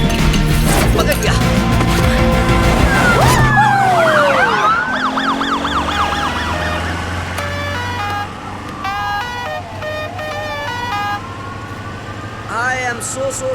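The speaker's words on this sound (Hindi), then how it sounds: "वो सायरन की आवाज है?" A police siren wails in a rising and falling sweep through traffic in a dramatic film scene, loud beneath a dense mix of music and effects, with voices also present.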